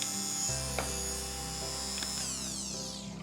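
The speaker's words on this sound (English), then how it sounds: "you can make a tapered side really quite fast with a drill" An AIRSEE electric nail drill whines steadily while it files and tapers a nail. The motor pitch shifts and sweeps near the end, close and continuous, with no talking.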